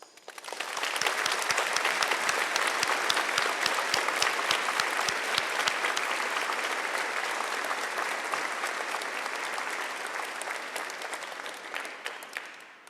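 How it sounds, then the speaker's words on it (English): Audience applause at a university graduation ceremony, a large hall crowd clapping loudly and continuously before slowly thinning out toward the end. "please join me in a round of applause to thank all those who have helped you through your studies"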